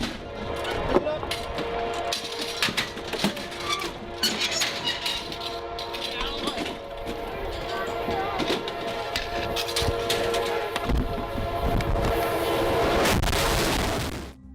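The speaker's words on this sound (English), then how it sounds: "The freight train emerged from around the corner at a speed of 57 miles per hour" A freight train rumbles closer at about 57 miles per hour with loud blasts of its horn, growing louder toward the end, mixed with clattering noise and voices.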